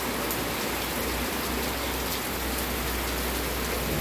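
Heavy rain pours without a break during Super Typhoon Uwan, a dense, loud hiss of drops hitting surfaces nearby with a low rumble underneath. It holds steady and unbroken, with no voices.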